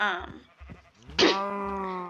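A Minecraft sheep gives one clear bleat after a few moments of someone talking, and the wavering cry carries on briefly after he stops.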